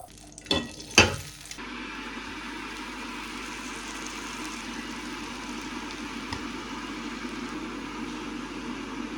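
English butter melting in a pan before salmon is fried, opening with a few sharp clanks of the pan and then a steady, even sizzle held close at moderate loudness.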